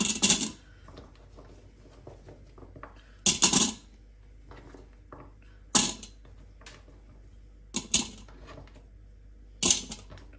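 Collapsible metal steamer basket opened and handled in a kitchen, giving a series of five or six separate metallic clinks and rattles spaced a couple of seconds apart, close and moderately loud over a quiet background.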